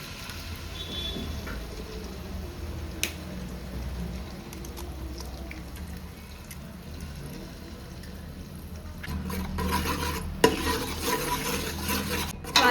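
Two eggs fry with cooked chicken in a pan for chicken egg fried rice. A continuous crackling sizzle runs under repeated stirring, and the scraping grows louder and busier toward the end, with a few sharp clicks of the utensil against the pan.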